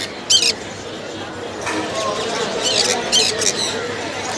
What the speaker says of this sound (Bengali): দেখেন কত সুন্দর কালারের কোনোর পাখি